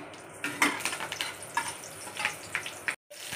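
Whole spices and green chilli sizzle in hot oil while making jeera rice, a steady close crackle with short louder spits and pops and a brief cut near the end, no talking.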